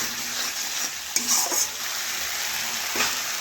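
Chicken pieces frying in oil and spice masala in a pan, with a steady close sizzle and a few scraping stirs partway through; no talking.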